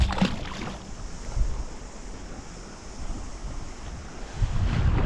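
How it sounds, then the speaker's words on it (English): Wind blowing hard over the sea off Spirits Bay while kayak fishing, a steady rushing gust noise buffeting the microphone with swells and water wash underneath. "the wind has come up quite a bit"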